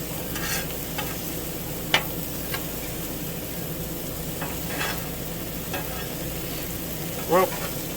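French fries frying on a Blackstone griddle aboard a houseboat, a steady close sizzle with a few sharp scraping clicks of a utensil scattered through.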